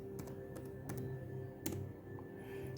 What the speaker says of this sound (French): Donc, si je tape IP config,